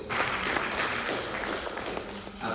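A seminar audience claps continuously, a dense, even wash of many hands close by that holds steady for the whole stretch, with faint voices underneath.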